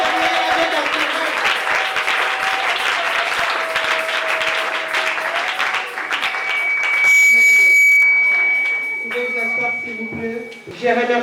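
A church congregation at a worship gathering in Binza Ozone claps loudly and steadily while voices cheer and shout in praise to God, with a sustained high tone ringing out near the end.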